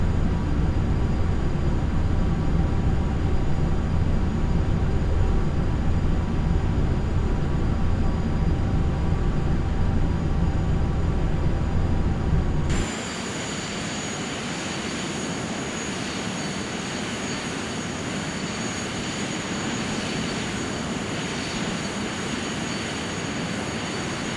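A Cessna Citation Mustang business jet cruising at 260 knots toward Palma de Mallorca in Microsoft Flight Simulator X. A steady, loud engine drone shifts abruptly midway to a thinner, quieter whine with a high tonal hum.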